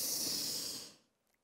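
A single long, deep exhale during a children's yoga session, breathy and hissing, close by, then fading into near silence.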